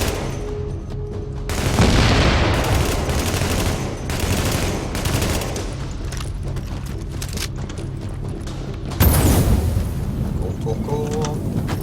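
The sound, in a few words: incendiary grenade and gunfire in video game The Division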